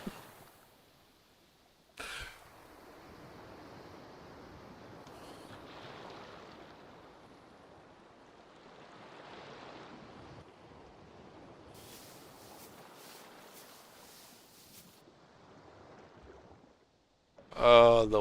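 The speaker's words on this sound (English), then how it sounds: "This is the sound of an ocean." Recorded ocean waves wash in a steady, soft roar of surf and hiss, with swells rising and falling, framed by brief louder bursts at the start and end.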